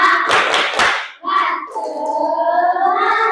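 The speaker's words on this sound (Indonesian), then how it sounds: "Tepuk semangat." Classroom group doing a rhythmic cheer clap, several quick bursts of hand claps in a pattern, followed by voices chanting together.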